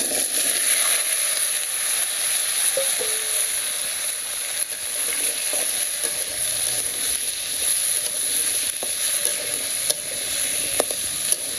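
Potatoes and greens fry in hot oil in a wok, giving a steady, loud, close sizzle with occasional stirring scrapes and no talking.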